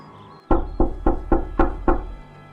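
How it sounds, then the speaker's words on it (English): Six loud knocks pound on a door at a steady rhythm, each a sharp thud with a short decay, in a Jamaican animated series; no talk, only a faint room hum before and after. "Tommy, hear them loud knocking up on the door"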